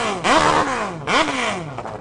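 Kawasaki 4-stroke, 4-cylinder, 1,500cc personal watercraft engines of about 200 horsepower on a lake, passing in two loud revving surges that rise and fall in pitch, with no talk.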